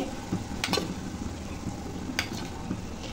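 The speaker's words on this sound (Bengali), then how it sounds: "এই জন্য চুলার আঁচটা একদম লো করে আমি টক দইটা ভালো করে মিশিয়ে নিচ্ছি।" Sour yogurt stirred into fried masala on low heat for egg pulao, with a soft, steady sizzle and a few sharp clinks of the spoon against the pan, close and unaccompanied by speech.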